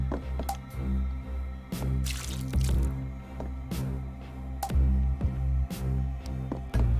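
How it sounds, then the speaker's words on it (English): A tree is being watered in the video game The Sexy Brutale. Wet drips and squishy splashes repeat irregularly over a low, steady musical drone, moderately loud, with no talk. "What if I gave it more water?"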